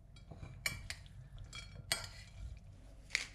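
Italian potato salad with olives and pineapple gets mixed in a bowl, giving a few soft scraping stirs and light clinks of a utensil against the dish, quiet and close.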